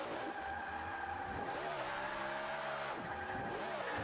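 A Forza 5 car engine roars steadily as tires squeal through a long drift, the engine pitch dipping and rising as it slides.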